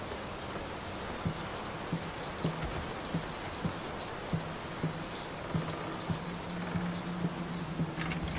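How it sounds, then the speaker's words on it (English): Steady rain pours continuously in the video game Layers of Fear, with scattered raindrops ticking sharply on a surface throughout and no voices. "Will this storm ever run out of rain?"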